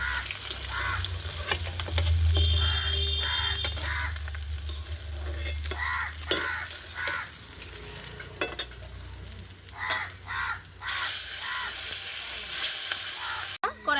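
Boal fish pieces fry in hot oil in a pan, a steady sizzle broken by stirring scrapes and occasional splashes, close and fairly quiet with no one talking.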